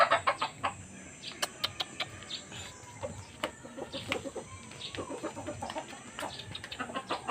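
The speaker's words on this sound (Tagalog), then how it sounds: "Pati pala manok, kumakain na ng ano, dog food." Chickens clucking and pecking as they feed on dog food, with repeated short clucks and sharp taps at close range over a steady farmyard bed of sound.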